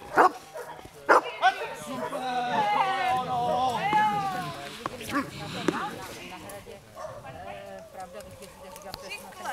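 Dog barking during protection and obedience training at a working-dog trial, with sharp repeated barks and whimpers spread through the stretch and a handler's voice speaking and giving commands between them.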